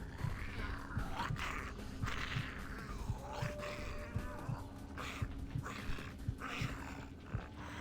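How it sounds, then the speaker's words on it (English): Sabbat ghouls in Vampire Bloodlines growling, with low, rough snarls and grunts repeating in overlapping bursts at moderate volume over a steady background hum; no talking. "I'm guessing these guys are ghouls, Sabbat ghouls, because they're growling."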